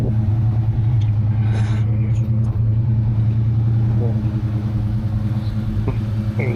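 A big-block square-body Chevrolet Suburban idles in cold weather as it warms up, its deep steady rumble continuous and close throughout. A blower fan hisses faintly in the background.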